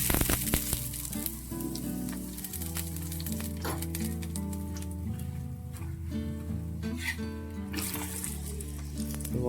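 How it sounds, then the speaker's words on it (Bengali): A vegetarian aloo paratha fries in oil in a pan, giving a continuous soft sizzle that sits under steady background music throughout. "এবার তেল দিয়ে ভেজে নিচ্ছি।"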